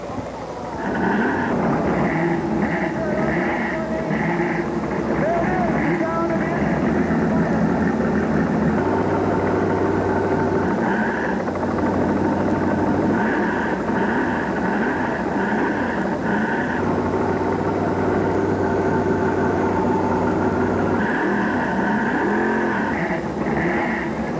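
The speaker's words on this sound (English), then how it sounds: "Gentlemen, start your engines. Very good. Fire them up, fire them up." Trans Am race car engines fire up together on a starting grid at a motorsport park, a steady loud drone of idling and revving engines with repeated blips and sustained low rumble throughout.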